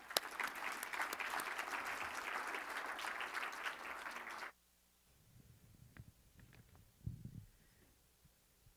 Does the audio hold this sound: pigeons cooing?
no